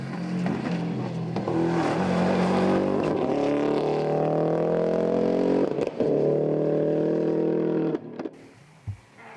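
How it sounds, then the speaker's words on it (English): A Subaru Impreza H6 rally car drives a stage of a New Zealand Rally Championship round in South Canterbury, its engine roaring loud and steady, rising through gears, then a quick lift and fade near the end. "Paul Cross in the 2nd of the H6 Subarus"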